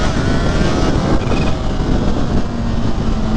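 Kawasaki Ninja H2 motorcycle under way, a loud, steady, broadband engine and road roar that holds for the whole stretch with no voices.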